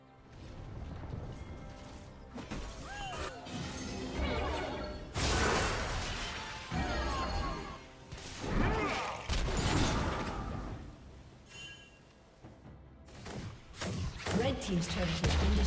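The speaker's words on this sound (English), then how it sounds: "Red team's turret has been destroyed." A turret being destroyed in League of Legends, with heavy thuds, crashes and whooshes swelling through a busy game mix while an announcer-style voice speaks over parts of it.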